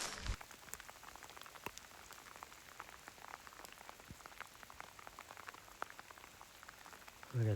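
Rain falling steadily outdoors along the Camino Primitivo trail in Spain, a dense, even patter of drops on nearby surfaces, fairly soft and continuous, with a brief handling bump at the end.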